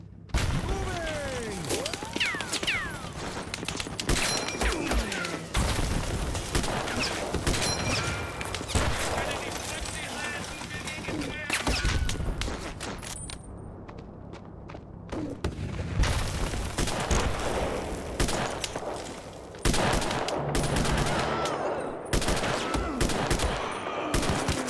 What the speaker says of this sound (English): Deploying 60mm mortar.